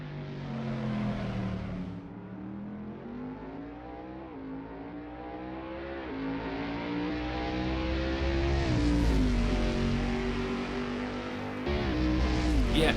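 A Chevrolet Camaro GT3 race car engine in Assetto Corsa drones and climbs through gears, its deep, rough note rising in pitch with each run before shifting down again, loud and continuous throughout.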